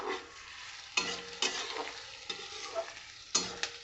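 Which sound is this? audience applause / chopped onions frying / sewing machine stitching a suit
chopped onions frying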